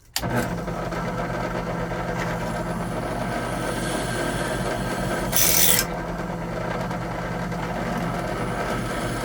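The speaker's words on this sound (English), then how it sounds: "I need to deburr it in between shots" A hand file rasping steadily against an air box part being deburred, a continuous close scraping that runs the whole time, with a brief louder hissy burst midway.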